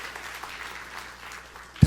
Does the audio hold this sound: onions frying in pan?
no